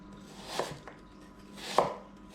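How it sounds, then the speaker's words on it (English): A knife cuts an apple into thin slices, producing two distinct crisp cuts against a board about a second apart, close and fairly quiet with a faint softer tap between them. "I'm just going to do thin slices."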